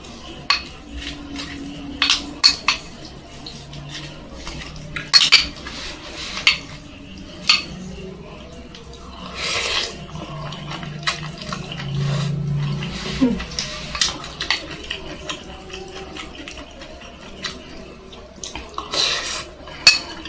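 Wooden spoon clinking and scraping in a bowl of chicken soto, with repeated short taps and scrapes at close range under a quiet room hum and some low voices in the background.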